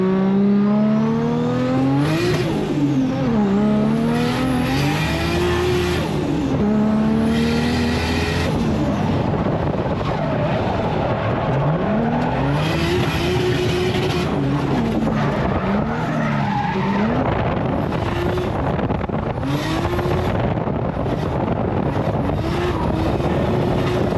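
A drift car runs hard through a drifting pass at a Drifting SA round, its engine rising and falling in rapid rev sweeps against a loud, continuous roar of screeching tires, with repeated handbrake-driven slides and no break in the noise.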